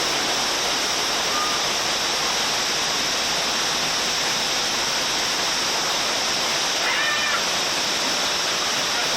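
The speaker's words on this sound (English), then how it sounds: "It was the lost waterfall." A waterfall roars in a steady, loud, unbroken wash of falling water close by, with no voices.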